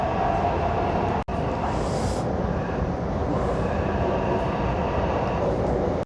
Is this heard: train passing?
yes